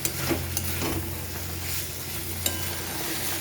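Bitter gourd and potato pieces stir-fried in a pan, a continuous close sizzle with scraping strokes of a spatula and light clinks against the metal, with a low steady hum beneath.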